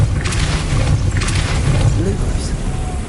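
Depulso spell cast in Hogwarts Legacy on PS5: a few booming magical bursts with sharp whooshing hits over a low rumbling game backdrop.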